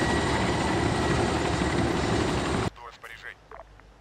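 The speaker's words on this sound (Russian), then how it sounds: "Через некоторое время за нами прилетает вертолет." Helicopter arriving in the military video game Arma 3 on the Namalsk map, a loud steady rotor and engine roar filling the first part, then cutting off abruptly to quieter game ambience with small scattered sounds.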